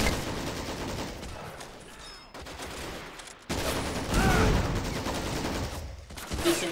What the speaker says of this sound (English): Decent grenade, fair trade